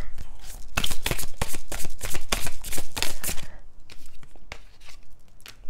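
Tarot cards are shuffled in quick riffling bursts, a rapid papery flutter that runs steadily for a few seconds before thinning to a few softer, scattered flicks.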